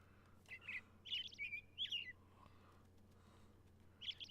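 Robins in Minecraft chirp in short bright bursts, a handful of quick tweets clustered near the start and one more near the end, fairly clear over a quiet low hum.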